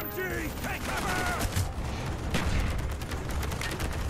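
Bursts of gunfire, including machine-gun fire, crackle through a Call of Duty Black Ops battle in a village, mixed with shouted voices and game effects across the whole stretch.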